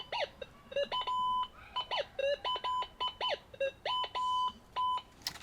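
Rapid repeated electronic beeps from a Gold Monster 1000 metal detector sounding a gold target tone, in short bursts, some tones warbling, over a faint background hiss; steady and close.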